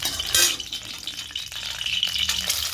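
Four eggs frying in a kadai with turmeric and salt, a close, continuous sizzle with bursts of spatula scraping and stirring, no voices.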